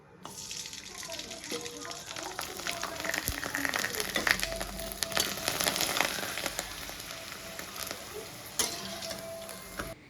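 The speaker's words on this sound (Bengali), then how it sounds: "কড়াইয়ে দিয়ে দেবো সাদা তেল দিয়ে কয়েকটা সাবুর পাপড় ভেজে নিয়ে" Sabu papad frying in white oil in a wok, giving a steady, dense sizzle and crackle that swells in the middle and eases toward the end, with no voices over it.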